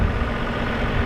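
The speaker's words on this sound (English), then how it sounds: "It's just an engine from a fuel truck." Fuel truck engine idling nearby at an airport, a steady loud low rumble with no change throughout and no voices.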